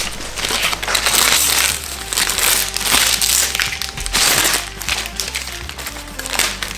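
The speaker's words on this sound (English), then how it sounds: "You just sand the backside of it" Fiberglass rocket body tube sanded by hand, rhythmic close abrasive rasping strokes in repeated bursts with short pauses between them.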